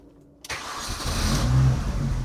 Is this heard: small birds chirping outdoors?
no